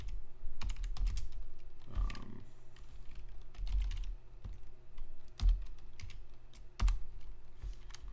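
Typing on a computer keyboard while setting up a Raspberry Pi, with bursts of quick key clicks and a few heavier thumps, close and fairly quiet, separated by short pauses and with no voices.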